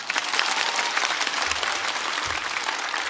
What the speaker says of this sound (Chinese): 掌声送给他们